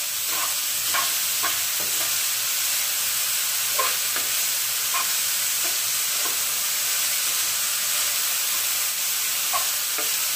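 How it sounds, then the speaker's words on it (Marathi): Sprouted moth beans sautéing with salt in a pan, a continuous bright sizzle and hiss with soft, scattered stirring scrapes throughout. "आणि मीठ बस चांगली परतून घ्यायची आपल्याला"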